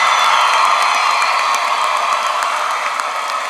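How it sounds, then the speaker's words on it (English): Sustained crowd applause mixed with cheering and scattered whoops for graduates of the Orange County Class of 2025 at a packed ceremony, a dense, loud wash of clapping that holds steady and eases slightly toward the end. "Give yourself a round of applause for that."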